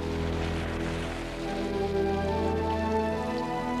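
Monsoon rain in Bombay pouring steadily onto surfaces, a dense, even hiss of drops close by with no voices.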